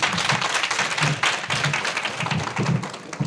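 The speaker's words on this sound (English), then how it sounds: "Another round of applause" An audience at a college's 150-year celebration in Cape Town claps steadily, a dense, continuous wash of applause from a large crowd in a hall.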